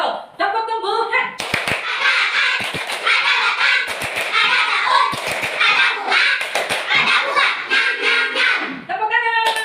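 Children in a classroom perform a rhythmic clapping chant about plants, chanting together while their hands strike in short patterned bursts of sharp claps and taps, with young voices running throughout.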